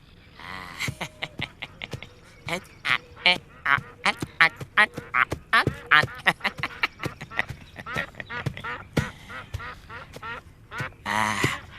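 Wandering whistling ducks quack repeatedly in a dense, rapid series of sharp, loud calls close by, with a few overlapping voices and no steady pause.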